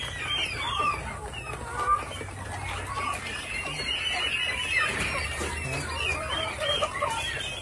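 Rhode Island Red chickens over six months old cluck and squawk on a farm, a busy, continuous chorus of overlapping calls close by with no talk over it.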